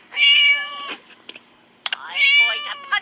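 A cat in the Scary Teacher video game meows twice, two loud drawn-out harmonic meows separated by a pause with scattered clicks between them.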